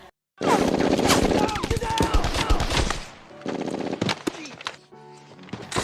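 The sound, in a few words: German troops firing rifles in a war film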